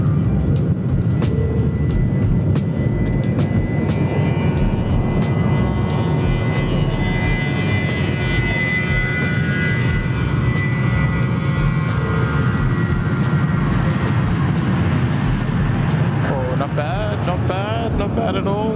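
A British Airways airliner, flight from London Heathrow, arrives at Sydney Airport, its engines a loud, steady roar that slowly shifts in pitch as it passes, with people talking over it.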